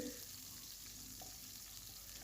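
Chopped native garlic sizzles and fries in a pan for a jute leaf stir-fry, a steady close hiss with faint stirring, no talking.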